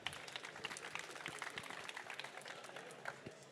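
Light applause from a small crowd at a conference summit, steady scattered clapping that continues without a break, heard at a modest distance.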